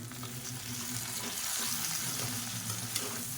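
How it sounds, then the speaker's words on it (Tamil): Drumsticks and brinjal sauté in a pan for a kuzhambu, making a continuous close sizzle and crackle with a soft, even hiss throughout and no speech. "நான் வந்து முருங்கைக்காயும் கத்திரிக்காயும் சேர்த்துருக்கேன். இப்போ இதையும் ஒரு 2 நிமிஷம் வதக்கிக்கலாம்."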